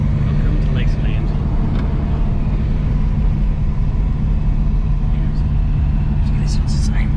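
A Morris Oxford car drives along with a steady low engine rumble and road noise from inside the cabin, while faint voices and a few brief higher sounds come through over it.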